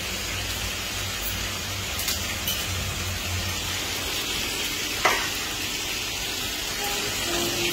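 Greens with chopped hot chilli fry in a pan with little oil, a steady loud sizzle under intermittent scraping of a stirring spoon and one sharp clack near the end.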